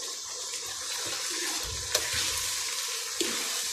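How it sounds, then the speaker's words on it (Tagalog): Chili peppers frying in hot oil on a medium burner for chili garlic oil, a steady close sizzle with occasional stirring clinks and no talk. "Hintayin natin maluto, ma-fry yung sili."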